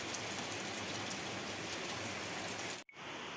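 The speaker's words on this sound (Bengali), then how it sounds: "এখনও দেখো বৃষ্টি হয়ে যাচ্ছে হয়ে যাচ্ছে" Steady, dense rain falling, a continuous hiss close by, broken by a brief dropout near the end before the downpour resumes.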